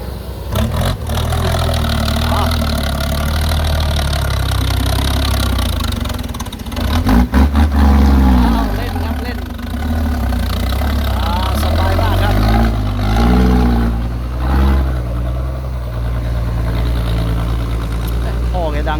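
A Hino FM2K dump truck's diesel engine runs loud and close at a construction site with an excavator, a steady heavy drone with brief revving swells, and people talking over it throughout.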